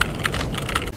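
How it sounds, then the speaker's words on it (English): Rapid typing on a computer keyboard, a dense run of close, crisp key clicks filling about a second without any speech. "who's playing on the fucking PC right now going ape shit? Clickety clack clack clack."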